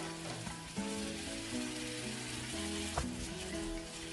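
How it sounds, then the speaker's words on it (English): Marinated beef for fajitas, with its marinade, sizzles in a hot pan as a soft, even frying hiss, fairly faint and partly under steady background music. "So let us start by putting the marinated meat with its marinade in a hot pan."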